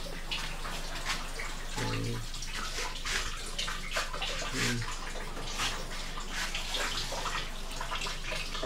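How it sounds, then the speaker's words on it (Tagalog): Steady, strong water pours continuously from a tap at a cave resort, a loud broad hiss with faint splashing and no voices. "malakas na yung tubig, malinis na yan"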